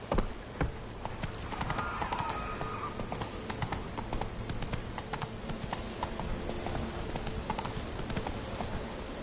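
Horse hooves clip-clopping in a PS4 video game. A steady trotting rhythm of hoofbeats runs throughout, over a soft bed of ambient game sound.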